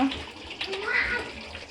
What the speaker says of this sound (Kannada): ಇದಕ್ಕೆ ಸ್ವಲ್ಪ ನೀರು ಹಾಕ್ಕೊಳ್ಳೋಣ.